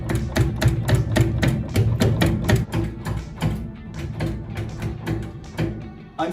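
A CNC lathe enlarges a metal part, giving a rapid, loud run of close metallic knocks with ringing tones that slow and soften slightly toward the end.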